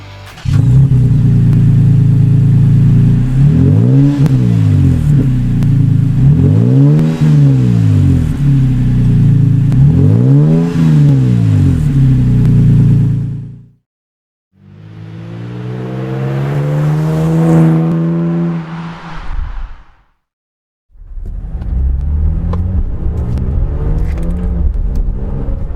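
A Toyota Tacoma 4.0 V6 with an aftermarket exhaust revs loudly and close up, rising and falling in three quick blips, then gives a longer rev after a short silence and rumbles again at the end.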